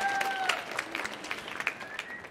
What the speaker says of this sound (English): round of applause again for Sophie.